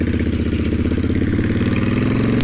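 A 2010 Honda Fury chopper's engine runs close by with a loud, steady, throbbing rumble and a fast, even pulse, heard on its own.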